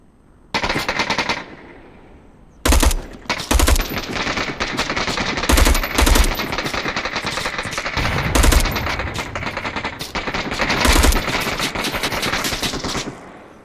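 Bursts of automatic gunfire in the VR shooter Onward, loud and close, arriving in long rattling strings broken by brief pauses and sharper single cracks.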